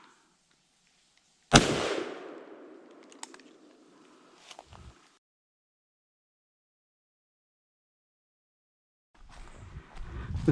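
A .410 shotgun fires a 3-inch Winchester Super X shell loaded with number 4 shot: one sharp, loud outdoor blast with a fading echo, then a couple of faint knocks and silence before other noise returns.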